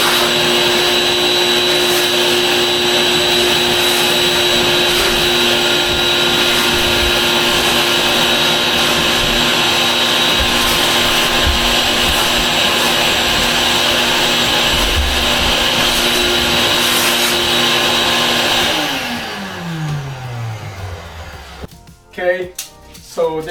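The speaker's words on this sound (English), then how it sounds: "I'm going to vacuum everything down here." A vacuum cleaner runs steadily and loudly on a bathroom floor during a subfloor repair, then powers down and winds off near the end, followed by a few handling clunks.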